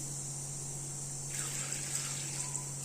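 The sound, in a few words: water poured onto moong dal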